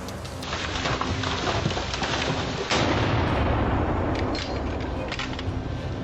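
Rifle shots fired while hunting wild boars outdoors in winter, loud sharp reports with a heavy echoing rumble over steady background noise, no talk.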